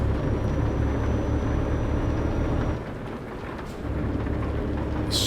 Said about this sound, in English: It's pretty cool seeing the thunder off in the distance there.